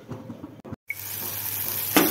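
Eggplant curry frying in a covered pan on the stove, giving a steady, close hiss of sizzling that continues throughout after a brief pause near the start.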